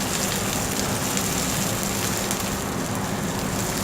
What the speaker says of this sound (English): just add some onion in the oil, and we'll wait till